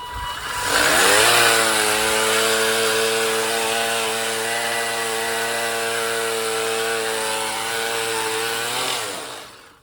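A Ryobi sweeper attachment driven by a weed whacker engine drones loud and steady, revving up at the start and holding a continuous buzzing whine for several seconds before winding down at the end; no voices.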